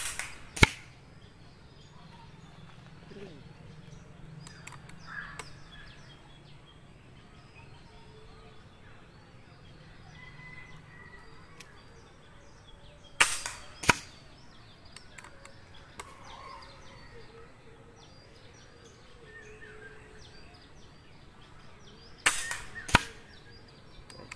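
A .177 Px120 Minotaur PCP air rifle fires pellets and slugs at a 45-metre target, making sharp, loud cracks that come singly and in quick pairs, with long quiet gaps between them.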